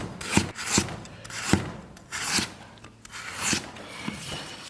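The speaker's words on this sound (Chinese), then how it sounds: "咱们把姜给它切成薄薄的厚片儿。" A knife cuts ginger into thin slices on a wooden cutting board, giving about nine crisp, close chopping strokes in an uneven rhythm with no speech.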